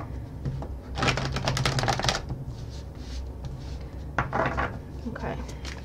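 Tarot cards being shuffled by hand in two bursts of rapid riffling flutters, close and fairly loud, with a quieter pause between them.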